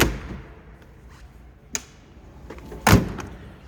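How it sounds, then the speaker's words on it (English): Door of a 1931 Ford Model A sedan latching and closing: a light metallic click, then after about a second a louder solid thud as the door shuts, nearby, with no talking. "Doors latch and close nicely."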